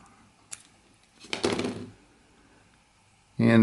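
A blade drawn across vulcanite rod stock while shaping a pipe stem, giving a short scraping, rasping cut near the middle of the clip, preceded by a faint tap and followed by a sudden louder noise at the end.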